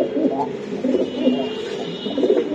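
Racing pigeons from a BRPFC club coo close by in soft, repeated throaty rolls, several birds overlapping in a continuous low murmur.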